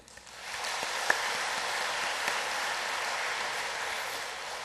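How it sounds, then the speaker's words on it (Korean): Congregation applauding at a Sunday church worship service: a dense, even patter of many hands clapping, swelling in quickly and holding steady for several seconds in a reverberant room. "박수를 한번 해주세요"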